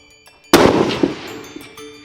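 Sniper rifle fired downrange on a shooting range: a single sharp, loud report with a fast attack and a decaying rumble tailing off over a second or so, no voices during it.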